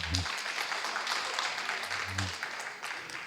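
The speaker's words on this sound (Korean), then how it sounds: "박수 부탁드리겠습니다" A church congregation at an Easter afternoon service gives a short round of applause. The soft, even patter of clapping sits under a speaking voice.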